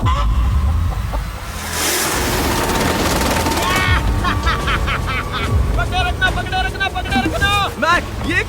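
Chicken on a remote island, clucking and squawking in a string of short, harmonic calls in the latter half, close and fairly loud over a busy noisy background of rustling and voices.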